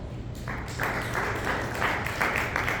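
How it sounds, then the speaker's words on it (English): Round of applause from a business conference audience after a keynote speaker's prompt, a steady broadband wash of many hands clapping that swells after the first half second and holds at a moderate level. "Congratulations, give you a round of applause."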